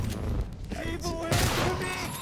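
A shotgun fires in the video game Prey (2017), sounding as a couple of sharp, loud blasts that ring out amid other game noise.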